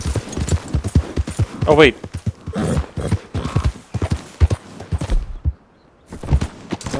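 A horse's hooves clip-clop at a steady trot in the Red Dead Redemption 2 video game, close and rhythmic with a short whinny, while a person talks over them.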